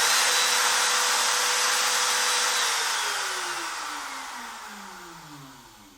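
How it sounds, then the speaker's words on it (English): A homemade CNC machine spindle whines loudly and steadily, then spins down with its pitch gliding lower and the sound fading over several seconds. "here's the spindle. It's kind of loud"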